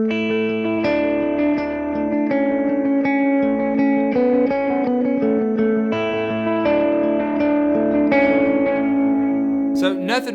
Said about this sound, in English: So if I were to play a lead line, let's do something simple like this.